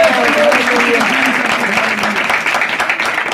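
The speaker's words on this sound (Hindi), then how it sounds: "खुदा के जलाल के लिए जोरदार तालियां" A crowd applauds loudly and steadily throughout at a Christian worship gathering, with a voice heard faintly over the clapping early on.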